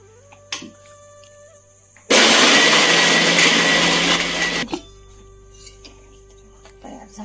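A kitchen mixer grinds roasted peanuts into a coarse powder, a loud steady whirring burst of about two and a half seconds that cuts off abruptly, with quiet room sounds before and after.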